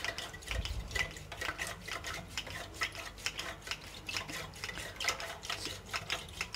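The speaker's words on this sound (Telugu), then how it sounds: "ఇలా చక్కగా మొత్తం కలిసేలాగా తిప్పుకోవాలి" Sponge cake batter stirred by hand in a bowl, a fast, regular series of scraping clinks from utensil against the bowl, close and continuous with no talk.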